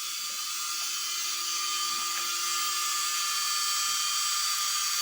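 Motor of an Indesit washing machine after repair of its control module, spinning up steadily with a continuous high-pitched whine and a faint low hum, loud and uninterrupted, no voices.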